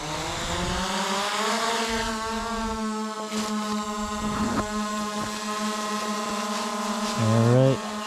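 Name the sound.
snowmobile driving as Skydio 2 drone follows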